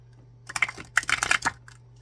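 Tarot and oracle cards shuffled by hand, a quick cluster of crisp riffling clicks over about a second, close and fairly loud against a low steady hum, with no talk.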